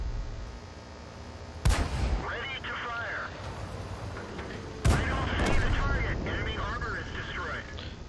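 Sexton self-propelled artillery firing in the World of Tanks video game, two sharp booming shots a few seconds apart, each followed by rumbling battle noise and engine drone, with someone talking over much of it.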